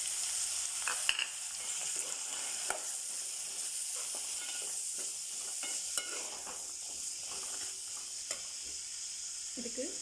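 Chopped vegetables stir-fry with tomatoes in a pan for veg kurma, a steady close sizzle with intermittent scraping stirs throughout.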